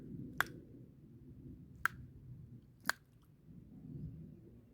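Local crisps crunched between the teeth, three sharp, separate bites spaced about a second apart over a low, steady outdoor rumble, close and fairly quiet.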